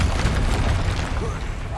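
A Levioso spell cast during combat in Hogwarts Legacy, a steady magical whoosh and thump layered over dense battle noise, with a voice talking through it.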